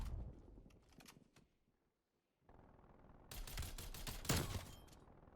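Rapid shots from a DMR 14 rifle in the video game Call of Duty: Cold War, a loud burst of cracks that fades into near silence, then a second, denser volley of gunfire.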